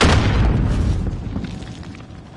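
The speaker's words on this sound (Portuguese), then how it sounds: "Caraca, essa granada é muito boa, cara." A grenade explodes in Call of Duty Warzone with one loud, close boom that opens the moment and then rumbles and fades away over a couple of seconds.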